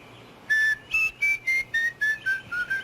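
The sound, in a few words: person whistling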